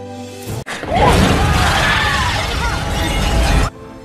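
A plane explodes on takeoff in the film Final Destination, a sudden loud blast followed by a sustained roaring crash that cuts off abruptly after about three seconds.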